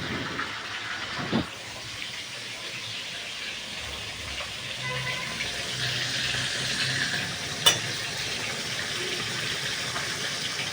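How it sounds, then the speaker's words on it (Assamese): Steady, moderately loud sizzling of fish frying in a pan, with an occasional sharp clink, continuous throughout and no talking. "মই এতিয়া মাছ ভাজি আছোঁ"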